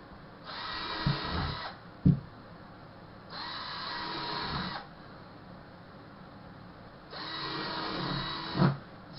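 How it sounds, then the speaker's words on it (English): A drill makes holes in a wooden nest box in three separate bursts, each a whirring run of about one to one and a half seconds, with a knock or clunk of handling between them. "take your drill or soldering iron and make holes in it"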